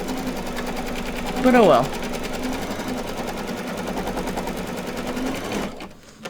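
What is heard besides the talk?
embroidery machine stitching tack-down of in-the-hoop patch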